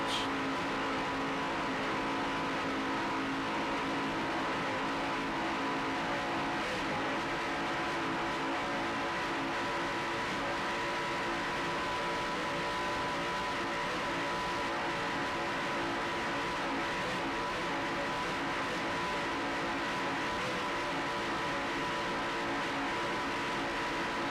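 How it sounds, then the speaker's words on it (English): Steady, continuous roar of Sterling performance inboard racing engines on skater powerboats, a 1997 offshore race, holding a constant droning pitch for the whole stretch with no talk over it. "Just listen to those Sterling performance inboards."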